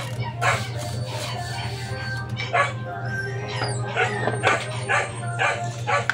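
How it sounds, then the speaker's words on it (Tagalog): Several hungry dogs bark and yip repeatedly at moderate distance, in irregular bursts over a constant low electrical hum during a motorcycle repair. "Pasensya na sa mga aso ko guys, maingay, gutom na ata sila."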